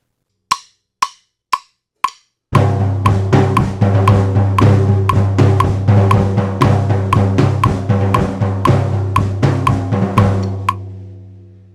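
Four sharp count-in clicks, then the steady intro drum beat of a song with a booming low pulse, playing for several seconds before ringing out.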